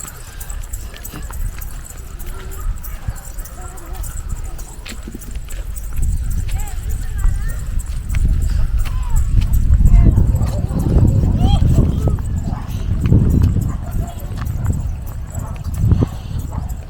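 Cattle walk along a rural path toward grazing land, their hooves clopping steadily through a loud, noisy outdoor scene with voices around them.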